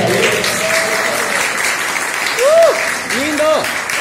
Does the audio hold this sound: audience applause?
yes